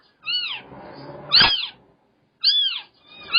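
A kitten, a small black one left behind by a stray mother cat on a roof, gives a series of high, clear meows: four calls with gaps between them, close and alone with no talk.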